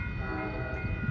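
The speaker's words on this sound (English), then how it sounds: "look at that train on its way to Chicago" Amtrak California Zephyr Train #6 passing Sutro Street in Reno, Nevada, with a steady low rumble of rolling cars and a faint tonal horn-like hum layered on top, brief and continuous.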